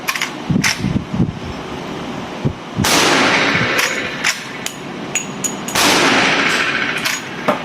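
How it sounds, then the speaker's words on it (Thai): A Henry Big Boy .357/.38 lever-action rifle with a 20-inch octagonal barrel fires outdoors: loud, sharp reports with long rumbling decays, separated by metallic clicks of the lever action between shots. "ผมจะลองสามนัดนะครับ"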